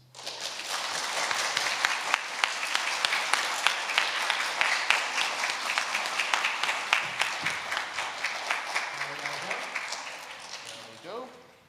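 Audience applause at a primary school's final year assembly after an award is announced, sustained clapping with crisp individual claps up close, swelling and then tapering off before a voice speaks at the end.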